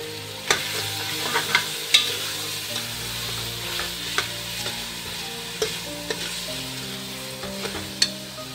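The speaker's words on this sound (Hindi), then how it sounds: "मसाला बहुत अच्छी तरह से भून गया, अब इसके अंदर हम ये मटन डाल देंगे" Mutton being stirred and fried in masala for bhuna gosht, with a steady sizzle and repeated scraping stir strokes and clinks close by, alone with no talk.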